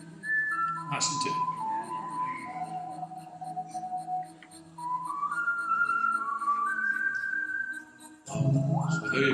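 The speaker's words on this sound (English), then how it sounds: "this is the only pre-recorded whistling on this iPad." Melodic whistled tune from the TSB Bank advert, played back on an iPad in a hall at an older people's event. Sustained notes with short breaks and background murmur.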